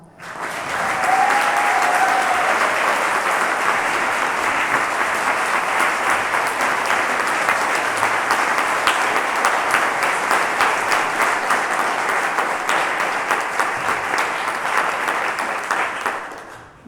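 Sustained, dense applause from a large audience for Bella Segal at the Royal Bath event, loud and steady for the full stretch with no talking, fading slightly at the very end.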